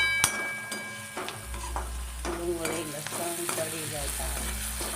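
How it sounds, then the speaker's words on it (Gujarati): Chili powder fries in hot oil while being stirred for a Maggi noodle recipe. A steady close sizzle runs throughout, broken by repeated scraping stir strokes and spoon knocks. "મરચું નાખી દીધું છે થોડું હલાવીશું ત્યાં સુધી તેલ બળી ના જાય ત્યાં સુધી"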